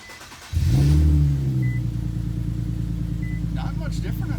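An Infiniti Q50 engine fitted with new parts cranks and fires up, a loud surge that settles into a steady close idle rumble.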